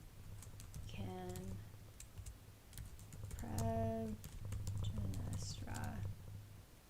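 Quick clicks of a computer keyboard as notes are typed, in short bursts heard under a person speaking nearby, over a steady low electrical hum.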